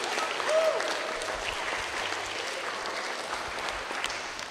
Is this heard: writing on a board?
no